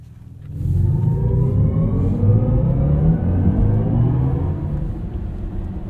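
A 2023 BMW iX M60 electric SUV accelerates hard in Sport mode, its synthetic drive sound swelling quickly into a loud, steady, deep hum and rumble that holds up close and then eases slightly.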